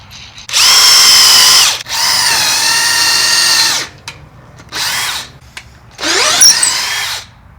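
A power drill whirs in several bursts, two long sustained runs followed by shorter ones, loud and close, with pitch shifting as it bites into wood.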